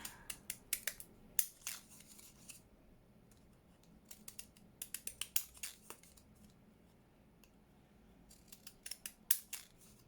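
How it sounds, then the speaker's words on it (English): Children's scissors snip through paper in quick bursts of crisp cuts, pausing between clusters, close and quiet with no voices. "get the kid scissors out."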